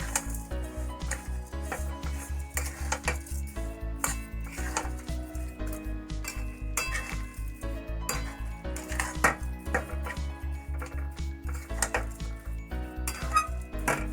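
Grated carrot with sugar is stirred in a pan for carrot barfi, a utensil scraping and clinking against the metal pan in a steady repeated rhythm over a low background hum, close and moderately loud, with no voices.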